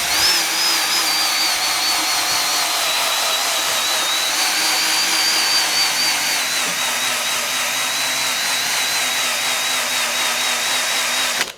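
A Fortis eraser wheel spinning on a drill against leftover glue: a steady, loud, high-pitched whirring grind that holds continuously with little variation throughout.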